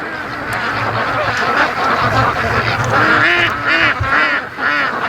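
Free-range ducks on a windy lake quack in a busy, overlapping chorus, with repeated calls near and far over steady wind noise that holds for the whole stretch.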